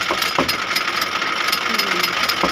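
A sewing machine stitches jersey fabric with a steady rapid mechanical chatter, loud and close, running without pause and with no talk over it.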